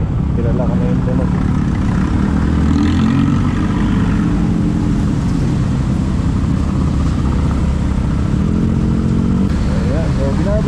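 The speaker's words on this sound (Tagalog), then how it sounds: "May big bike sa likod natin." A big bike motorcycle rumbles and idles close behind in morning Manila traffic, a loud continuous engine drone mixed with car noise, while a person talks over it.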